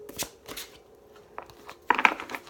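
A Rider-Waite tarot deck is shuffled by hand in a few short papery riffles and slides, close by and moderately loud, ending in a denser burst of card flutter.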